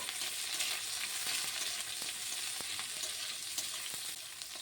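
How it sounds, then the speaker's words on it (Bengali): Chopped onion sizzles steadily in hot mustard oil in a wok, with faint scraping stirs ticking through the quiet, even frying hiss. "পেঁয়াজটিকে দিয়ে একটু নেড়ে ছেড়ে নেব।"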